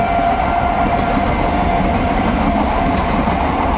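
A Ranaghat local train rolls loudly into Murshidabad station, its carriages rumbling and clattering steadily over the rails, close and continuous.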